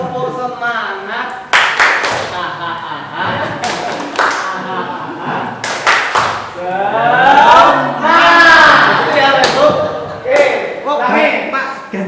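A group of adults does a tepuk semangat chant, rhythmic bursts of clapping mixed with voices calling out together and talk in between, fairly loud and close in an indoor gathering.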